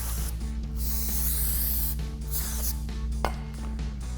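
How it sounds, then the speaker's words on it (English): Brake cleaner is sprayed onto a new brake rotor from a Chevrolet Silverado 6-lug brake kit in bursts of hissing aerosol, close and steady, with a short sharp click near the end. "So we just go ahead and spray this down,"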